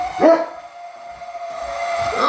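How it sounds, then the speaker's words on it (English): Several dogs bark and whine in a fit indoors beside an empty water dispenser, with a sharp close bark at the start, a sustained high whine through the middle and more barking at the end. "So because it's out of water, the dogs are having a fit. Hear it?"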